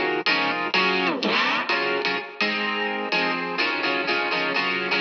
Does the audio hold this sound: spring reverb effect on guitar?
yes